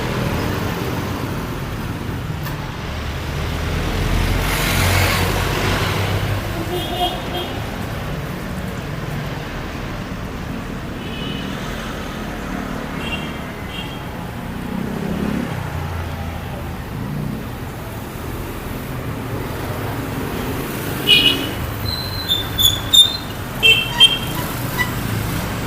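Street traffic in the Philippines, with cars and buses moving along a busy road in a continuous rumble, a few sharper honks or clatters near the end.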